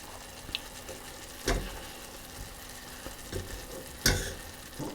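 Cream heating in a pan for caramel sauce, coming to the boil, with a low steady simmering hiss and two distinct knocks of a spoon or pan, close and quiet.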